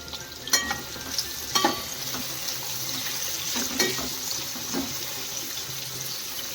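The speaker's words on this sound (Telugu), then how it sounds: "జస్ట్ ఇలా కొంచెం ఆయిల్లో కూడా మనం బ్రౌన్ ఆనియన్స్ని ప్రిపేర్ చేసుకోవచ్చు" Sliced onions fry in a little oil for chicken dum biryani, a steady close sizzle with a few louder stirring scrapes and clatters over it.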